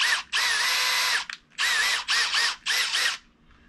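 A power drill enlarging a hole whines in several bursts, one long run followed by three shorter ones, close and loud, with the pitch dipping as it bites.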